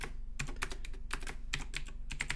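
Fingers tap out HTML code on a computer keyboard in quick, close clicks that come in uneven runs, clear and steady, with no voices.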